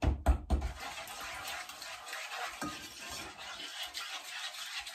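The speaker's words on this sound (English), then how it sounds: "And you stir that. Incorporate it all together." Caster sugar mixture for lemon meringue pie being stirred in a pan, a few knocks of the utensil against the pot at first, then soft continuous scraping and swishing, fairly quiet.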